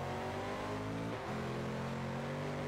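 Race car engine in the video game Forza Horizon 2, a sustained high droning roar with a brief pitch dip and recovery midway, loud and steady throughout.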